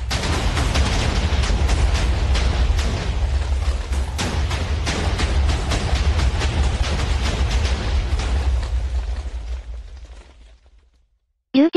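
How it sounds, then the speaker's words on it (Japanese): TNT blast blowing up a chicken in Minecraft: a long, dense rolling burst of explosions and crackling debris rumbles for about ten seconds, then fades to silence, followed by a brief voice. "くちばしから爆発していくよ。"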